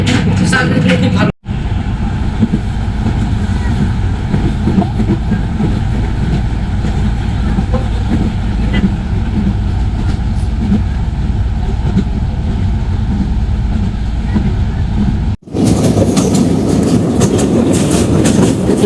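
Passenger train from Dhaka to Cox's Bazar crossing the large Bhairab rail bridge, its wheels rumbling and clattering loudly and steadily on the rails throughout, with a brief cut near the start and a louder, rougher stretch at the end.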